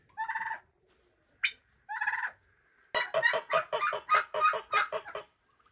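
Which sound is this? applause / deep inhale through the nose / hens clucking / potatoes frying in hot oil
hens clucking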